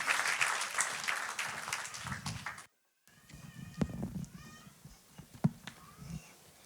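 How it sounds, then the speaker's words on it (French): Church congregation applauding to welcome a pastor at a worship service, a dense burst of clapping that breaks off briefly, then resumes as scattered claps and cheers. "je vous demande d'accueillir par vos acclamations pour l'encourager"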